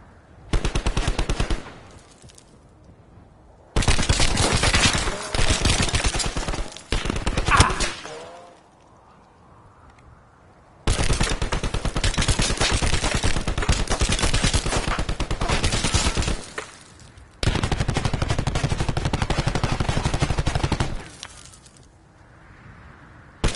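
Bursts of rapid video game gunfire, loud and close, come in several long volleys separated by brief lulls, with a little speech faintly underneath.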